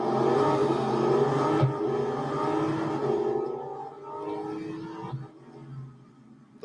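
A race car engine in Real Racing 3 whines with revving harmonics as the car runs a lap, then fades and winds down toward the end with brief shifts in pitch.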